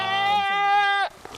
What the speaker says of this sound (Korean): 염소 넣을 거야.